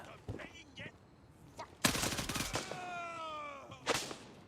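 Gunfire in Gray Zone Warfare, a dense rapid burst in the middle with scattered shots before and after and ringing tails, under intermittent speech.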